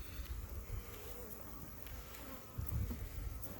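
Honey bees buzz softly and continuously around an opened nuc beehive outdoors, a low swarming drone with a few nearer passes.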